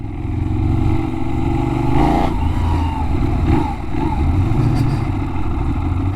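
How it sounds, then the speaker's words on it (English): A Benelli 752S motorcycle engine running loud and close, a steady droning rumble that swells slightly as it is revved, with no voices. "there's nothing there when you rev it out."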